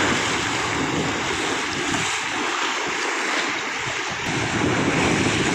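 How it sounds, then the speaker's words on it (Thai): Strong sea waves crash and roar continuously onto the shore at Koh Phayam, Ranong, Thailand, with heavy wind buffeting the microphone. "คลื่นแรงมากนะครับ ที่ชายทะเลแล้วคลื่นแรงมากนะครับ"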